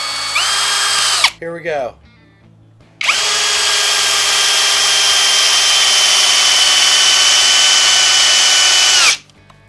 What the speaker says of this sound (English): it's going to be set to drill mode. As you can see, 6 3/8 inch deck screw